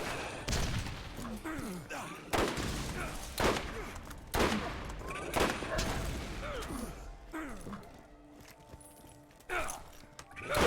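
Bursts of gunfire in the video game Borderlands, several separate volleys of sharp close shots in uneven rhythm with quieter pauses between them and some game clatter.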